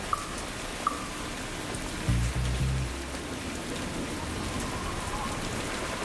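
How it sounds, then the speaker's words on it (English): Steady rain pours down in a dense, even hiss throughout, with a brief low rumble partway through and no voices. "It's just a little rain."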